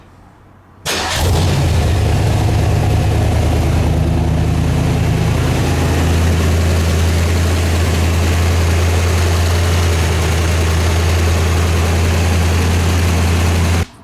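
A 1964 C2 Corvette engine starts and then idles steadily and loudly nearby, a deep, continuous rumble holding unchanged for more than twelve seconds before it cuts off abruptly at the end.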